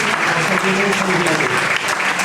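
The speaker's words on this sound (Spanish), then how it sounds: "de nuevo el aplauso ahora sí más atronador a Elvira" Thunderous applause from a conference audience, loud and dense throughout the short stretch, with a voice briefly audible underneath.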